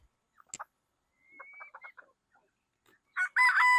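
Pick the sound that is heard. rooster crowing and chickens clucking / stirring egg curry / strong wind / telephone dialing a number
rooster crowing and chickens clucking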